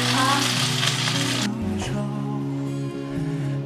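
A chicken cutlet pan-fries in a flat steak pan, a bright steady sizzle that dips partway through as a tonal background hum carries on underneath.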